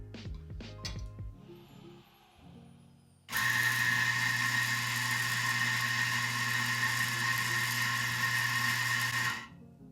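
Eureka Atom W 75 grind-by-weight coffee grinder grinding beans into a portafilter: a loud, steady high whir that starts abruptly after some handling clinks and runs evenly for about six seconds before stopping.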